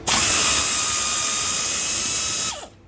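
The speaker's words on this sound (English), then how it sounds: "Sometimes you use my ratchet, but you can use a 17mm spanner for here." A powered ratchet works loose a castor fitting sized for a 17mm spanner, giving one continuous loud whirring whine for about two and a half seconds before it cuts off abruptly.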